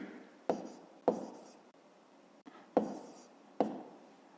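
Handwritten numbers going down on paper, five short scratchy pen or pencil strokes at an even pace, close and quiet, with no talking.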